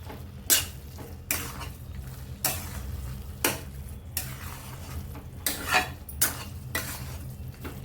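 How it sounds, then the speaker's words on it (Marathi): Carrot halwa with dry fruits being stirred in a pan, a spoon scraping the thick mixture in about eight distinct strokes over a low hum, with no talking. "आता यामध्ये ड्रायफ्रूट टाकणार आहे पूर्ण पाणी सुकून गेलेलं आहे मिक्स करून घेऊया"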